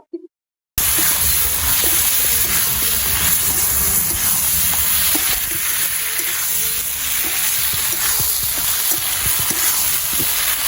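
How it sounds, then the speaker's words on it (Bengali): Whole garlic cloves and spices fry for a Bihari-style egg curry, a loud, steady sizzle with crackling and stirring that starts abruptly after a brief silent moment and continues without talk. "এবার আমি গোটা রসুন দুটো দিয়ে দিচ্ছি আর মশলা দিয়ে কষিয়ে নিব।"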